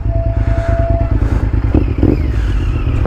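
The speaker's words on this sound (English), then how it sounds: "A very nice exhaust, jeepers." A 2008 Honda VTR 1000 engine idles with a rapid, lumpy exhaust pulse, close by, with a brief blip of revs and some clattering.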